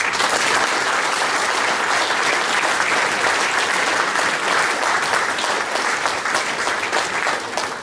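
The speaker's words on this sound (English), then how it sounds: "Once again, a round of applause for John Marshall." An audience at a regional chamber of commerce awards night applauds an award recipient, dense sustained clapping that stays loud and even throughout before tapering slightly at the end.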